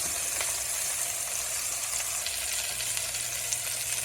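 Fish fillets frying in a pan while out fishing, a steady close hiss and crackle of sizzling oil with occasional small pops, continuous and even throughout with no talking.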